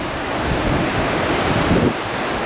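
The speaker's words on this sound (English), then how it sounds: "The wind coming off of this is crazy." Strong wind gusting off a waterfall in Jasper National Park, a loud, constant roaring rush buffeting the microphone, with no talking.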